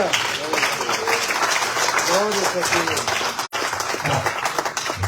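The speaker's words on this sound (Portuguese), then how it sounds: "Dá um aplauso para Jesus." A church congregation applauds together in a steady wash of clapping, with voices and murmured talk running underneath and a brief dropout midway.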